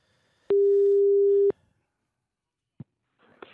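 A steady telephone line tone sounds for about a second after a number is dialed, clear and alone, followed by a brief click and faint noise.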